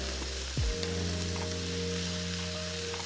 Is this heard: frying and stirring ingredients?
yes